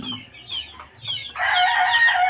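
Bulik and Boston F1 cross gamefowl rooster clucking in short calls, then crowing loudly and close for the last second, with no talk.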